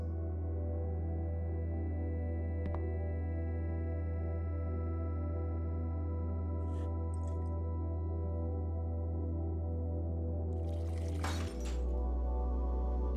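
Glass container shattering in the video game The Uncertain: a bright, crackling break near the end, set over a steady loud low hum of game ambience with a few faint clinks earlier.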